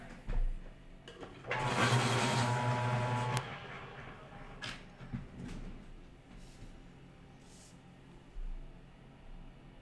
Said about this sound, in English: Apologies for the sharpener.